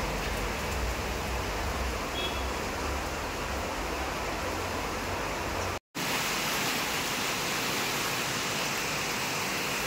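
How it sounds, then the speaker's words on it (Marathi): Heavy rain pours down in a dense, unbroken roar that stays loud and steady throughout. "पाहू शकताय किती जोराचा पाऊस येतोय।"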